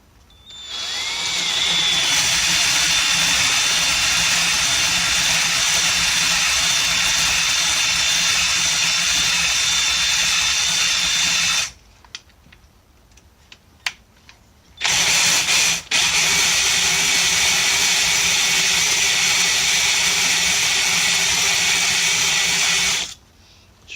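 Spinning cylinder hone working inside a Honda CR125 two-stroke cylinder, a loud steady whirring drill drone that cuts out midway, returns briefly, and then runs steadily again before stopping.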